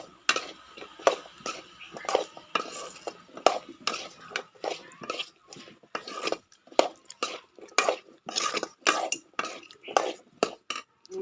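A spoon stirs brinjal and field bean kootu in a cooking pot, heard as close, quiet, repeated metallic scrapes and clinks in an uneven rhythm throughout, with no talking.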